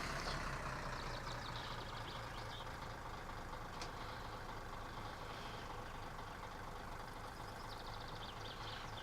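Car engine in the game My Summer Car turning over and settling into a steady, low idle that runs continuously, with a constant rumble and no voices.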